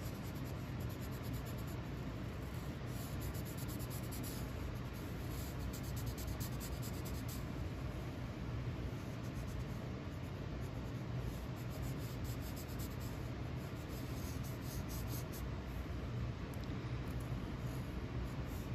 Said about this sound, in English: I'm gonna color in this area because look, on James it's black.